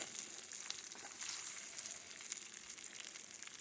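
Beef and rice fry in a cast iron pan with a steady, soft crackling sizzle, faint and continuous with small pops throughout.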